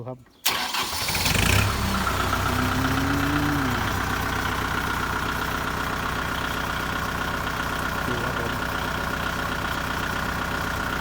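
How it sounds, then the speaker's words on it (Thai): A new Kubota MU4902 tractor's engine cranks and catches, then settles into a steady, close idle. A voice is heard over the engine. "เสียงเครื่องยนต์นะครับ"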